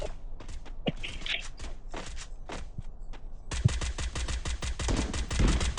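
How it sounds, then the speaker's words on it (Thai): Rapid gunfire from a Barrett M82 sniper rifle and other weapons in a shooting video game, with scattered shots followed by a dense burst of automatic fire toward the end. "โอ้โหใครมันยิง"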